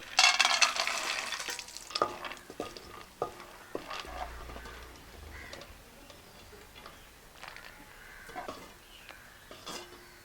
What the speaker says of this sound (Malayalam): കുറച്ച് കപ്പലണ്ടി കൂടെ ഇതിൽ വറുത്ത് ചേർക്കാം.